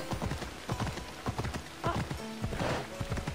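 Rapid clip-clop of horse hooves in Assassin's Creed Odyssey, rhythmic and close, with a brief whinny and faint background sounds.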